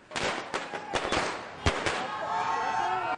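Firecrackers burst at a Lepcha community celebration at Dambar Chowk in Kalimpong, a string of sharp, irregular cracks and pops, some close and loud, followed by a softer crowd-like din.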